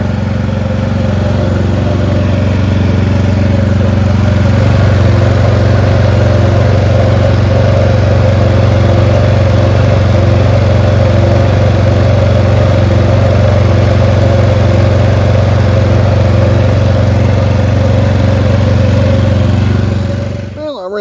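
A PowerSmart 4400W generator runs steadily under load with two blower fans on high, a loud constant engine drone with a firm low hum that holds throughout and cuts off abruptly at the very end.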